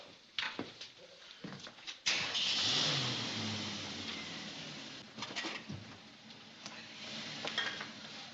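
A police car engine turns over and catches at close range, settling into a steady idle with a few clunks and faint movement around it.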